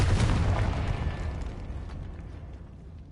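A Confringo explosion spell in a video game lands as one loud, close blast that rumbles and slowly fades away over a few seconds.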